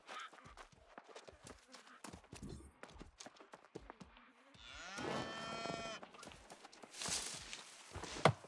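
A cow lows in the video game New World, a drawn-out moo in the middle of the clip set among clip-clopping hooves, footsteps and other faint game effects.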